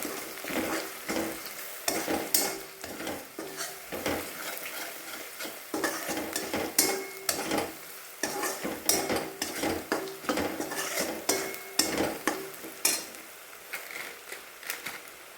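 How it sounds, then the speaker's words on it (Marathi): Dal frying in a pan as coriander powder and turmeric are stirred in, with repeated spoon scrapes and clinks against metal over a continuous sizzle, close and fairly busy throughout. "धना पावडर हळद सगळं मिक्स करून घेऊया"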